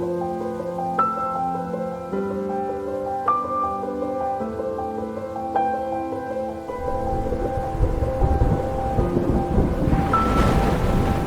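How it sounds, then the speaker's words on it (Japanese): Thunder rumbles over the African savanna, a deep, broad roar swelling in after about seven seconds and building beneath sustained orchestral music, with no voices. "サバンナに雷鳴が轟きます。"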